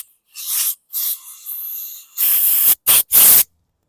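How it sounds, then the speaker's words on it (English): Compressed air blows clean the carburetor cap of a 2016 Yard Machines lawn mower in loud, sharp hissing blasts: several short bursts with brief gaps, then three stronger back-to-back bursts, close and with no speech. "I'm going to clean up the cap here a little bit with some compressed air."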